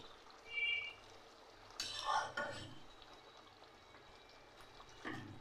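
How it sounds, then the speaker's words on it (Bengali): Water is poured into a pan of egg and raw potato curry, a faint, quiet splash with light clinks of a utensil against the cookware in a home kitchen. "এবার আমি আরেকটু জল দিয়ে দিচ্ছি"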